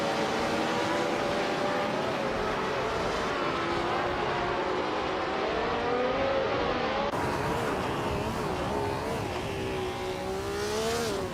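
A 1967 Eagle Mark 1 race car in a racing video game, its engine droning steadily with rising and falling pitch as it shifts and revs through a lap, loud and continuous with no talk.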